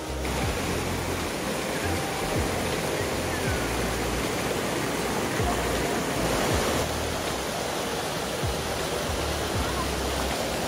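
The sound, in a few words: babbling stream water after first monsoon rain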